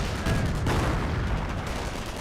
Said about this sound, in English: Strafe run for the US player.